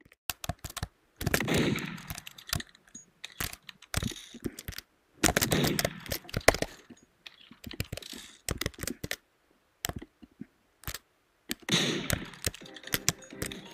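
Evergun fire in the Roblox game Murder Mystery 2: sharp rapid bursts of clicky shots in several separate volleys with quiet gaps between, fairly faint and alone.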